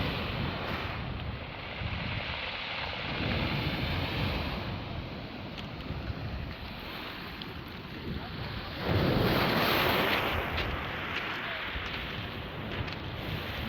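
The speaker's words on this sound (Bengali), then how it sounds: "সাগর অনেক উত্তাল।" Rough sea surf at Bray Beach near Dublin, a constant loud roar of breaking waves with heavy wind buffeting the microphone and a surge of crashing water partway through.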